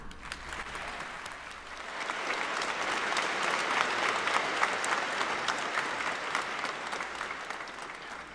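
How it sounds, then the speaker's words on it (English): Sustained audience applause for the staff at a high school graduation ceremony, dense crowd clapping that swells after a couple of seconds and holds steady, fairly distant in a large hall. "Please join me in a round of applause as we show our appreciation of the Tartan High School staff."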